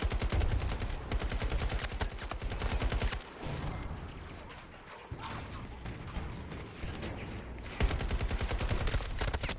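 Shotgun blasts in Battlefield 2042 gameplay, a dense rapid volley of loud booming shots at the start and again near the end, with a quieter stretch of distant battle noise between.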